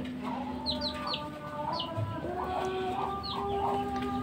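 Chickens cluck repeatedly on a Bangladeshi poultry farm, a string of close, moderately loud calls over a low steady background hum.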